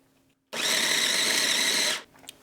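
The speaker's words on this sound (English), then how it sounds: "we are going to get a processor and we're going to toss these in" Hotdogs are ground into burger mix in a food processor, which gives one loud, steady whirring burst of about a second and a half. It starts and stops abruptly, with quiet before and after.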